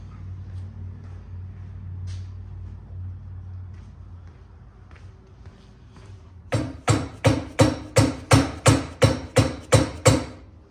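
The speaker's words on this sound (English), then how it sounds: "So I'm just gonna get my dead blow hammer and see if I can give that a little persuasion." A dead blow hammer knocks a part into place during an aftermarket install, landing about ten sharp, evenly spaced strikes in quick succession, loud and close, after a quieter stretch of low background hum.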